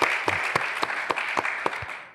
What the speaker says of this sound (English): you guys can give yourselves a round of applause